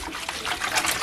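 Water pours steadily into a bowl of greens soaking in a water and vinegar mixture, a continuous close trickling splash.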